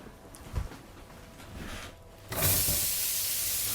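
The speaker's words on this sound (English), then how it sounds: "So now you can add the onions and the peppers at once to the pan." Onions and peppers are dropped into a hot pan for poulet basquaise, and after a few soft handling sounds a loud, steady hiss of sizzling starts and carries on to the end.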